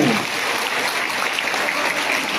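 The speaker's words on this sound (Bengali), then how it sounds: "সবাইকে বলবো জোরে হাত তালির মধ্যে" Loud, steady applause from a crowd at an ISKCON youth festival in Agartala, filling the hall continuously as a guest is sent off, dense and even throughout.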